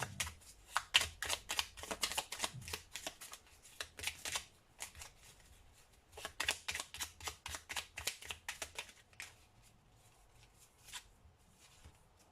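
Oracle cards are shuffled by hand in quick bursts of soft riffling and slapping, with a pause partway through and an isolated tap near the end, close by and fairly quiet, with no voices.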